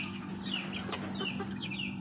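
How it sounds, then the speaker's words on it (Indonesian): Pet chickens cluck and chatter close by while pecking at homemade feed, several short overlapping calls in a busy, continuous stream over a low background hum. "Sekarang kita lihat bagaimana ayam-ayam peliharaan saya memakan pakan yang tadi saya bikin."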